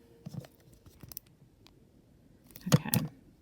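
Scissors cutting a paper craft piece from a Stampin' Up project kit, a few soft snips and paper rustles early, then a louder close cluster of cuts and crinkling near the end, quiet room otherwise.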